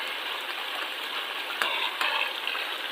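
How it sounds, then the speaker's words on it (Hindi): Finely chopped tomatoes hit hot frying masala for achari aloo, giving a loud, steady sizzle with a couple of brief crackling bursts and no talking. "अब इसके ऊपर हम डाल देंगे बारीक कटे हुए टमाटर"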